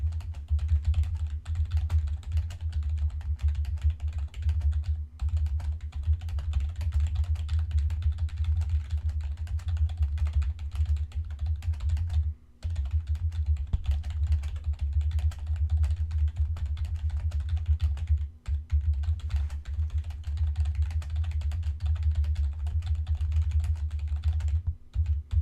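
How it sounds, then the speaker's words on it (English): Continuous rapid keystrokes on a computer keyboard during a typing speed test, a dense, close clatter of key presses lasting the full stretch with only a couple of brief pauses, over a low steady hum and no speech. "See, you're typing at 67 WPM."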